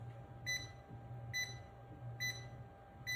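A Klein tic tracer voltage tester beeps four times at an even, steady pace, with short bright chirps over a quiet low hum.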